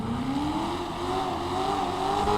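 Invertero Corquette D1 engine with a low butterfly blower, bug catcher with exposed filter and straight pipes in GTA Online, a steady loud rev climbing slowly in pitch, a continuous close engine drone with no talking.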